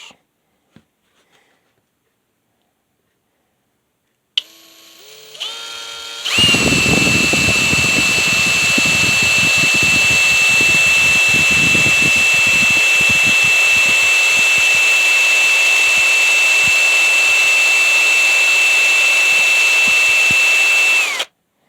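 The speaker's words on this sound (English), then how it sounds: "And drilling this thing out to the shank" A power drill whirs up after a few clicks, then drills continuously with a loud, high-pitched whine and grinding chatter for a long stretch.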